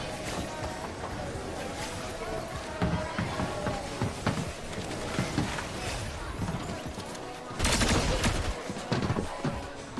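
SMG gunfire in an esports video game match, bursts of rapid shots among footsteps and clatter, heavier bursts near the end, with talk over the action.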